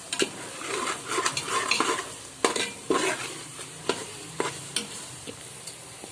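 Chicken biryani masala stirred in a pot with a ladle, giving close, irregular scrapes and clanks of metal over a steady sizzle of frying, with no one talking.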